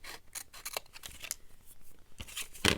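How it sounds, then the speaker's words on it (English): Scissors snipping through a book page: a series of short crisp paper cuts in irregular bursts, close and clear, with quiet gaps between snips and no talking. "So I'm going to just cut it down."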